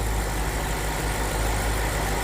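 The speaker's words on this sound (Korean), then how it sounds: "무려 4800cc V8기통 가솔린 엔진입니다" A BMW X5 with a 4.8-litre V8 gasoline engine idles steadily, giving a continuous low rumble with an even, unbroken drone and no voices.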